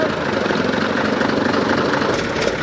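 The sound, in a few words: TAM 5500 truck engine running after 25 years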